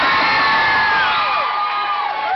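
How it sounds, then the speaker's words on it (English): Crowd at a concert cheering and whooping loudly and continuously, a dense wash of many voices with occasional higher shouts rising above. "what are you even cheering about right now?"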